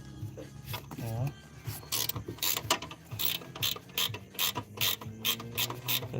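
A 13mm ratchet spanner tightening a nut on a BC coilover install, giving quick bursts of ratcheting clicks in an uneven rhythm, close up, while someone speaks over it.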